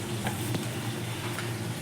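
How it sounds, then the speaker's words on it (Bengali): Fish oil and potato curry cooking in a pan for a Bengali chorchori, a soft steady sizzle and bubbling with faint stirring ticks, alone and fairly quiet. "এটা আরও খানিকক্ষণ সিদ্ধ হবে এবং ভাজা হবে"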